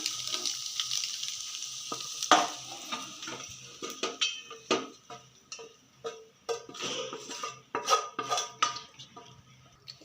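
Cooked egg semiya is scooped from a pan onto a plate, with repeated metallic scrapes and clinks of a spatula on the pan under a steady sizzle, close and busy with no talk.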